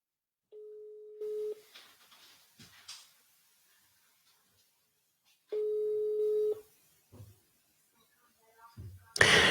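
A telephone busy signal sounds during a call attempt, a steady tone heard in two separate stretches with quiet gaps and faint voices between them.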